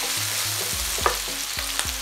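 Anchovies fry in a pan with a bright, steady sizzle while a utensil stirs them, scraping and knocking in repeated strokes, close and alone with no voices.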